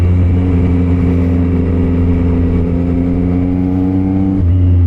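A loud motorcycle engine idles at a steady, throaty pitch close by, holding a constant drone before a slight shift near the end.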